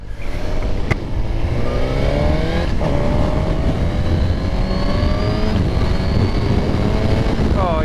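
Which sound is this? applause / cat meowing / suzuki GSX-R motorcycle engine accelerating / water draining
suzuki GSX-R motorcycle engine accelerating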